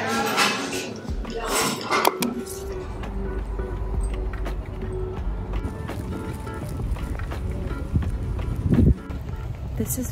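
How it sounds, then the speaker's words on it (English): Strong wind blows outdoors at a wedding venue in Korea, buffeting the microphone in rough, uneven gusts throughout, with someone talking over it. "So it's really windy."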